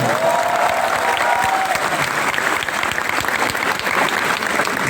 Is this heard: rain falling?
no